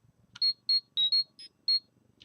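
A Power Rangers Morpher toy with a Green Ranger coin plays a clear electronic sound: a quick run of about six high, bright beeps, near and loud, with no talking.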